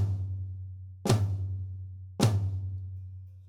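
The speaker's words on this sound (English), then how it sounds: "The intent is to put the right hand on the floor tom." Two separate flams struck across a floor tom and snare drum, each a sharp doubled hit with a booming tom tone that rings on and slowly decays, about a second apart and close up.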